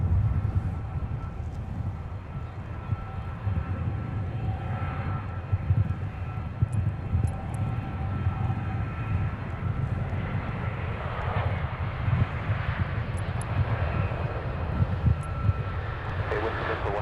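A Delta airliner arriving from Seoul at Minneapolis–St. Paul airport, a broad steady engine roar with wind rumble that swells and fades over many seconds, with a commentator talking over it at times.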